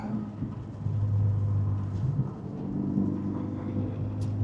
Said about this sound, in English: I'm going to have to downshift.